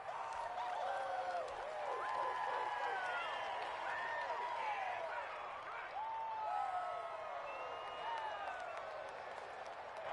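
A large stadium crowd roaring during a playoff football game before a big third down, a sustained dense wash of cheering and whistles, with commentators talking over it.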